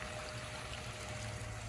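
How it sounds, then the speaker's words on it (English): A backyard pond's water flows in a continuous, even trickling wash, moderately quiet and without interruption. "pond, kind of neat to have the water flowing."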